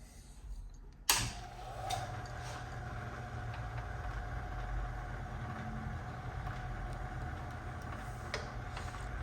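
A Nilson four slide machine starts running with its clutch engaged, a sudden clunk followed by a steady low mechanical hum and drone with faint ticking, fairly quiet and continuous without talking.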